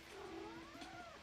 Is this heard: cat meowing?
yes